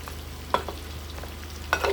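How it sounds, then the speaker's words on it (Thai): Pork ribs deep-frying in oil with a soft continuous sizzle, broken by a few sharp scrapes and clinks of stirring. "กระดูกซี่โครงหมูหนึ่งกิโลนะคะที่โครงพันทอดอยู่นี่ค่ะ"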